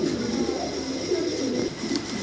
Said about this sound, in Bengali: চমৎকার চমৎকার কবুতর পাবেন